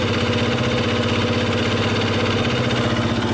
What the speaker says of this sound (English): let me start up the bike, let it run for a few minutes